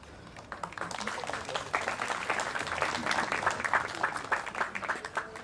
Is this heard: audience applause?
yes